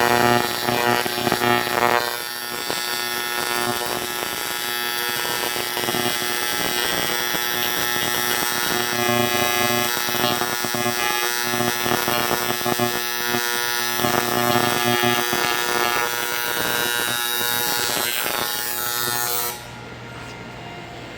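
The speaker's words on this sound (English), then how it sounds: "Lay down some welds." Aluminum is welded in a workshop, producing a steady, loud electric buzz with crackling texture that runs continuously for about nineteen seconds before cutting off to a quieter hum.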